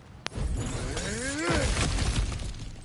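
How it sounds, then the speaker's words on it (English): Objects smashing apart in God of War Ragnarök: a sharp crack, then a long loud shattering crash with splintering debris and rising, falling swooshes, close and full. "back to smashing through things for fun and profit"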